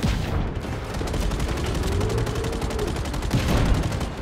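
Rapid, dense automatic gunfire from an enemy vehicle in the video game Just Cause 3, a loud continuous rattle of shots running the whole time with no break.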